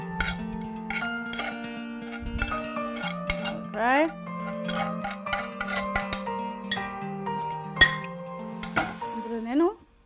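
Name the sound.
transferring shrimp dip into an oven-proof dish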